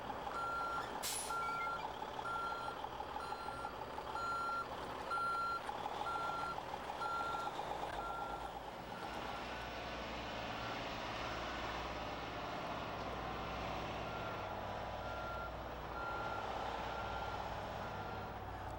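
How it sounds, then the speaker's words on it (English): A truck backing into an alley dock on a driving test course, its reversing alarm beeping in a regular pulse over a low idling engine, then the beeps stop while the engine rumbles on. "the driver must back into the alley dock without hitting the sides"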